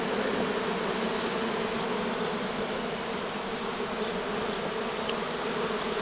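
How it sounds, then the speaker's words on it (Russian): A dense, continuous buzz of a large swarm of Buckfast bees being settled into a hive, steady and loud, with a few individual insects droning past. "Пчелы."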